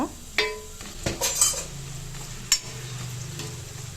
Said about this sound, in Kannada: ಅದು ಅಷ್ಟೇ ಫ್ರೈ ಮಾಡ್ಕೋಬೇಕು ಕರಿಬೇವು